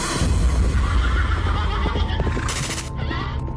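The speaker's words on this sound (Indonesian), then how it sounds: "di sekitar alun-alun sering terdengar suara gemuruh seperti langkah kaki kuda yang berlarian tanpa wujud" A horse whinnies loudly and close over rumbling, galloping hooves, presented as a sound effect for ghostly soldiers' horses at Alun-Alun Surya Kencana. The thundering hoofbeats continue under the call, with no speech.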